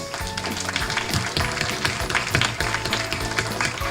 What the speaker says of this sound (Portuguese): Aplauso para Dios.